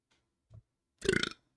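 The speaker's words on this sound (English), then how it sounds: "That's a birthday burp." A single loud, raspy burp of about a third of a second, close to the microphone, following a brief soft low sound in an otherwise quiet room.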